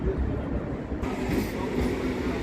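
Train running through the Howrah area near the Hooghly river in Kolkata, a steady close rumble with rail noise that swells slightly after the first second and continues evenly throughout.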